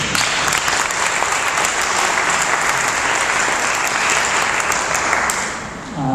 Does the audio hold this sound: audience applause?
yes